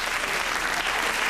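A brief burst of dense crowd applause at a school, steady and fairly loud throughout.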